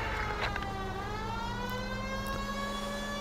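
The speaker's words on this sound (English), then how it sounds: "Let's put the sirens on." A steady wailing police car siren in the video game L.A. Noire, with harmonic tones that slowly rise and fall, running continuously over a low engine rumble.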